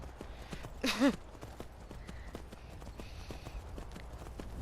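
Rapid, rhythmic clip-clop of horse hooves galloping at a steady pace in the video game Skyrim, with a brief voice-like snort or whinny near the start.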